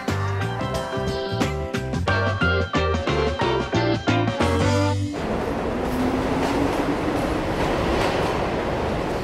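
A New York subway train runs through a tunnel: loud rhythmic clatter of wheels over rail joints for several seconds, then a continuous roaring rumble with a faint rising squeal, with no talking.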